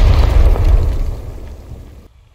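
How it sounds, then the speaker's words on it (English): An explosion blows out a prison camp's south wall, starting as a loud, deep boom and then rumbling away and fading over about two seconds. "A loud explosion, smoke dissipated,"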